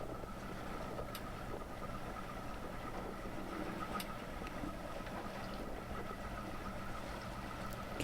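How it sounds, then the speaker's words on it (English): A low, steady rumble of boat engines idling continuously at a constant pitch, with a faint hum and no voices. "Whack the engines back to an idle."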